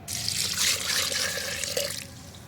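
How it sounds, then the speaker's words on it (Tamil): Water pours steadily over banana leaves, mixed with rice-washing water to make an organic fertilizer, producing a close, loud, continuous gushing splash for about two seconds before tapering off. "இப்போ நம்ம தேவையான அளவு தண்ணியும் கலந்துக்கிட போகிறோம்."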